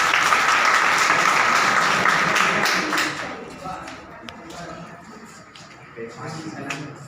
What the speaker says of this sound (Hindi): तालियां बजाते हैं आप लोग।